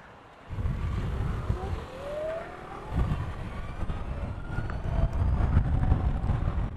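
An Ather 450 electric scooter pulls away, its motor giving a thin whine that climbs in pitch over a steady low rumble of wind and road noise.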